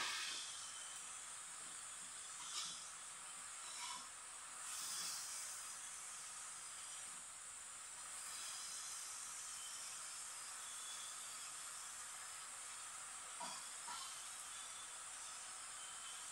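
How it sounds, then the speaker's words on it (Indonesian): Ground and chopped spice paste sautéing in a hot pan for sambal with chicken liver and gizzard, a steady faint sizzling hiss with occasional soft clinks and stirs, no talking. "bumbu yang dihaluskan dengan yang dipotong-potong kita tumis"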